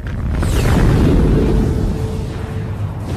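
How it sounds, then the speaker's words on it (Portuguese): A deep, loud rumbling boom swells and then slowly fades, standing in for a supernova star explosion; no voices accompany it. "Isso significa que elas explodem e jogam todo o seu interior de volta para a galáxia."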